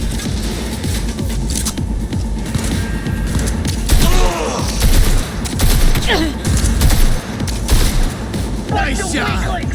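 Gunfire in the video game Cyberpunk 2077 crackles as a dense, continuous fusillade of shots with heavier booming bursts midway, all layered in a busy game mix with brief vocal sounds.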